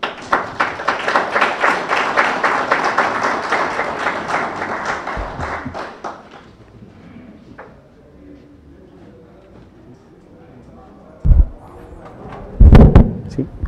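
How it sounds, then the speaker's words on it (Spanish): Audience applause at a Colegio de Ingenieros del Perú lecture in Lima, a dense burst of clapping that fades out after about six seconds, followed by quiet room noise and a few thumps near the microphone. "lo recibimos con un fuerte aplauso"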